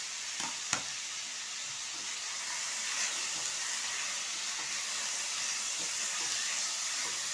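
Chopped beans, whole dried red chillies and tomato frying in a pan for a street-style veg chowmein, a steady close sizzling hiss with a couple of sharp clinks of a utensil early on.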